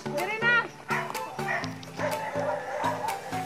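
Several dogs bark over and over in a rural Philippine province neighbourhood of large houses. The barks are close and loud in a quick irregular volley, and a few yips come in among them.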